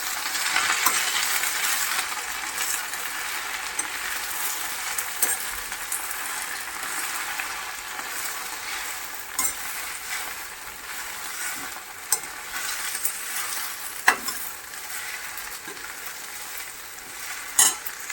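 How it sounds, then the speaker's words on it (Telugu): Gongura leaves and chillies are stirred in a pan over a low gas flame, with a steady sizzle under scattered scraping clicks of the spoon against the metal. "గ్యాస్ని అయితే సిమ్లో పెట్టేసుకొని మంచిగా కలుపుకోండి."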